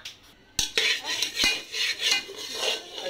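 Gram flour roasting over a medium flame is stirred in a metal pan with ghee, making repeated close scraping and clinking strokes in an uneven rhythm with a soft rustle beneath.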